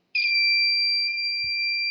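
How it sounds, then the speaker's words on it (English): An electronic buzzer in an infrared sensor circuit switches on and holds a steady, loud, piercing electronic tone for nearly two seconds, with a faint click at the end. "you can hear the buzzer."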